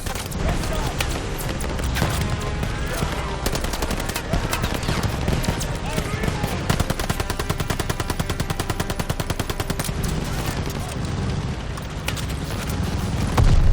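Sustained machine gun fire in the video game Operation Tonga, dense rapid bursts of automatic gunfire layered with other shots, loud and continuous throughout, with battle shouting in the mix.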